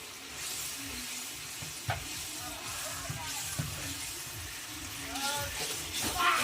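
Spice pastes of chili, turmeric and coriander being slowly fried and stirred in a pan for chicken jhal fry, a soft steady sizzle with occasional scraping stirs, fairly quiet and close.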